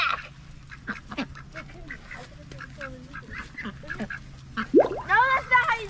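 Ducks quack in short bursts, growing louder and more insistent toward the end, with people talking and calling out nearby.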